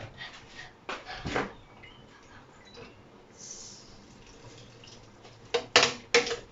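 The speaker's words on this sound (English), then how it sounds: "just going to put in some water" Water splashes and trickles in short bursts into a blender holding spinach, with a few louder pours near the end, fairly close and quiet otherwise.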